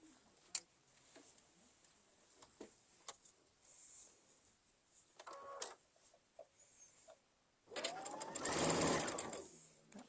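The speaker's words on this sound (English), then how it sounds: "And we are going to sew this." A domestic sewing machine stitches a fabric apron in quick bursts, short runs of ticking separated by pauses, then one loud sustained run near the end, with no talking.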